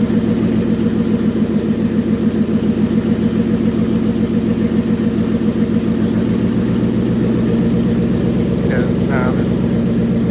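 The freshly started twin-turbo 2019 Mustang GT engine idles loudly and close in a steady pulsing rumble, with the rapid ticking whir of its direct injection pump woven in and someone talking over it.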